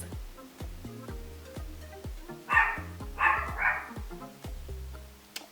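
A dog barks in a short burst of three or four sharp yaps midway, while soft piano-like notes sound throughout.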